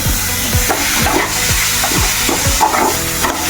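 Chopped tomatoes hit a pan of chicken masala with toasted coriander and chili powders, giving a steady loud sizzle broken by regular scraping stirs of a spoon against the pan, with no talk.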